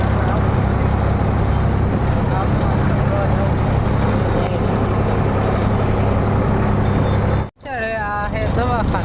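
A village tractor engine drones loud and steady with a low rumbling hum throughout, briefly cutting out near the end before a person starts speaking over it.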